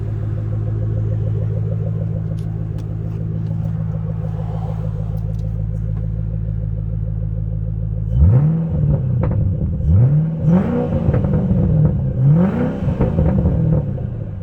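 A 2009 Ford Shelby GT500 idles with a steady low burble, then the engine is blipped three times in quick succession, each rev rising and falling loudly up close.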